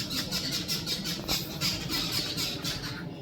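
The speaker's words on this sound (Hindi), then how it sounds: "यहाँ पे चिड़ियों की आवाज़ ये समझ नहीं आती, ऐसी आवाज़ें क्यों निकालती है।" Birds give repeated harsh squawking, squealing calls in a steady rhythmic series throughout, fairly loud and close, with a low rumbling background beneath and no talking.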